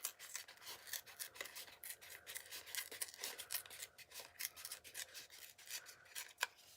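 Paper tearing in a run of short, dry rasping rips, close by and fairly quiet, with no voices.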